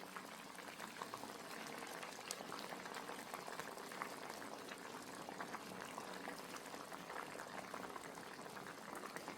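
Sardine (mathi) fish curry at a full, steady boil in the pot, a dense, continuous bubbling and popping that holds evenly throughout with no voices.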